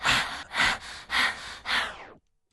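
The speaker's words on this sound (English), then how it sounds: "More panting." Heavy rhythmic panting from an isolated studio vocal track, four loud, close breaths in a steady pattern before the sound cuts to silence.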